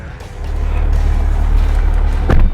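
Chevrolet C8 Corvette on a race track, a steady loud engine drone from inside the car with a brief rising surge near the end.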